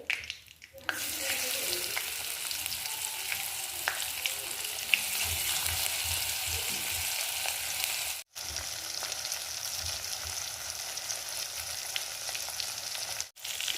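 Sardines frying Kerala style in oil with curry leaves, a continuous loud sizzle and crackle close by, with a few scraping stirs and two very brief silent breaks; no voices.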